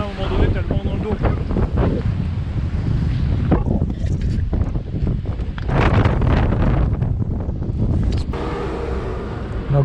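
Wind roars across the microphone of a gravel bike rider on a road near Saint-Tropez. The rush is loud and steady with gusting surges, and a voice is partly buried beneath it.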